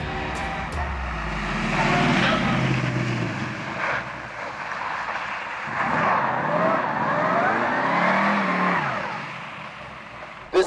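A 1969 AMC AMX rally car's engine revs and pulls hard, rising and falling in pitch over several long, loud bursts with no talking.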